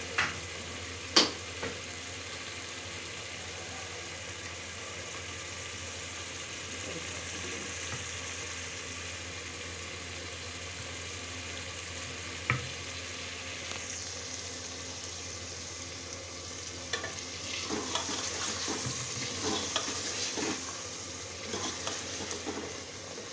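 Yogurt fries in a pan as the base for egg kofta curry, giving a soft, steady sizzle with occasional clinks and stirring sounds in a home kitchen, and no one speaks.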